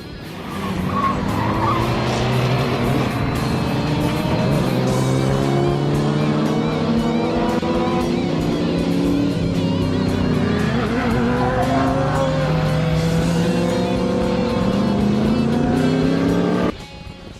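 Racing video game with a Mini and a Z car dueling on a touge mountain course: continuous loud engine drone with rising and falling revs through gear changes, plus tire squeal in the corners, cutting off abruptly at the end.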